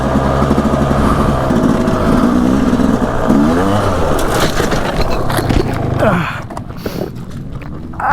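A Yamaha YZ250 two-stroke motocross bike revs and rides around a large motocross track, its engine rising and falling loudly and close before easing off toward the end.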